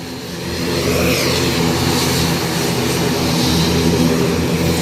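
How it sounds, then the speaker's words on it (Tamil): An aircraft engine roars at Jaffna airport, a loud, steady drone that swells slightly over a few seconds and carries on without voices. "ஆனால் இதில் போயிங் ஃப்ளைட்லாம் வரலாம், தியான சவுண்டாக இருக்குது."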